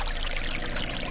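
Water pours in a steady, continuous rush with no break, fairly quiet and heard alone.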